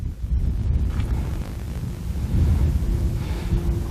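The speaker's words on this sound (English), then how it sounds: "It's super windy out." Heavy wind buffets the microphone with a constant low rumble and roar on a mountain top at a Nevada ghost town, gusting slightly stronger toward the end.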